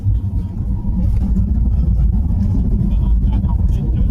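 Loud, steady low rumble of an airliner touching down and rolling out on the runway at Luang Prabang, Laos, heard from inside the cabin with constant dense roar throughout.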